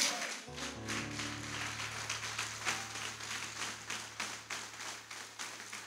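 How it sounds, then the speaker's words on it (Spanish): Scattered, fairly faint clapping from a church congregation over a sustained low musical drone, the claps uneven and loosely rhythmic. "denle un aplauso al Señor"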